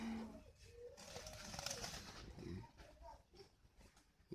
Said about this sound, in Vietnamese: Đây là những chú chim hồng.